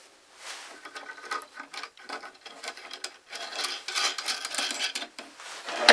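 A bolt turned into a homemade swivel vise for a drill press, a steady run of scraping, rasping metal-on-metal grinding with small clicks, close by and alone.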